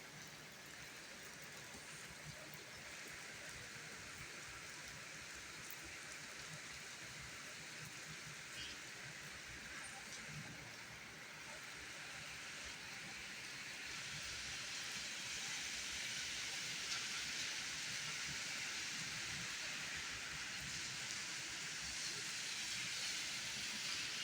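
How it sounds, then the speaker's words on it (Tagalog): Moderate rain falls steadily, a broad even hiss with soft patter and drips on a floor, growing slightly louder partway through, with no voices. "Makikita sa sahig yung ulan. Ayan pumapatak. Hindi pa nga to masyadong malakas Katamtaman lang ang ulan na ito ngayon"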